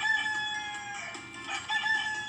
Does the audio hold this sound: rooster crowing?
yes